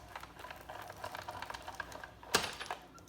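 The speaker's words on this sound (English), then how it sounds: "I'm just going to place my die in the machine" An extremely worn hand-cranked die cutting machine presses a die through washi tape to make rosettes, giving close, steady mechanical clicking and rattling with a louder clunk near the end.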